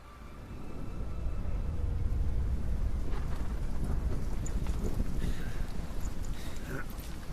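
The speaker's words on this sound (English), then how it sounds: "Getting rained on?" Steady heavy rain with low rumbling thunder rolls through a stormy scene in the Witcher 3 video game, a dense continuous wash of sound lasting throughout.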